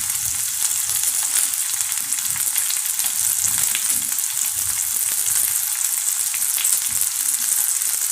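Onions and potatoes frying in hot oil for sabudana upma: a dense, continuous crackling sizzle, close and even throughout, with faint stirring beneath and no speech.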